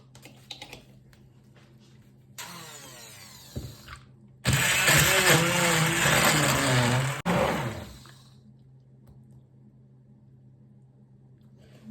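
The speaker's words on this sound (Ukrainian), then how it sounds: "І тепер буду взбивати блендером." A blender whips a glass of milk and peanut butter shake, with a lower whir for about two seconds, then a loud high-speed roar for about three seconds before stopping. Faint clicks of handling come before and after, with no talk.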